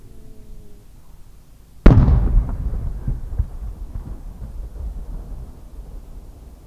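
A large shaku-dama firework shell bursts at a Fukushima fireworks festival with a single loud, sharp boom, followed by a long crackling, rumbling decay that fades slowly over several seconds.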